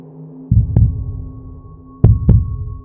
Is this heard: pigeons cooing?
no